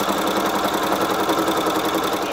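A sewing machine topstitches around the edge of a fabric dinner roll holder, giving a steady, continuous mechanical whir and rapid needle chatter at an even level throughout, close by and alone.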